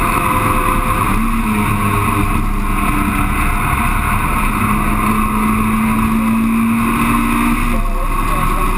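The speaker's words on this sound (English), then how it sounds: "getting to hear the engine revving away inside that car" Onboard a Mazda MX-5 race car at Cadwell Park, a loud, steady engine drone with a rising and falling tone through the corners, sitting under wind noise.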